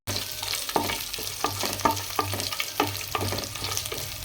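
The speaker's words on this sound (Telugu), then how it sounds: "అల్లం కూడా వేగిన తర్వాత కొత్తిమీర, కరివేపాకు కూడా వేసుకొని చిటపటమనేంత వరకు వేయించుకోండి" Coriander and curry leaves join ginger in hot oil for a tempering for semiya pulihora, giving a steady close sizzle and crackle punctuated by regular stirring scrapes in the pan.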